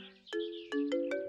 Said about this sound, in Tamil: எனக்கு ஒரு முக்கியமான ஃபோன் கால் வருது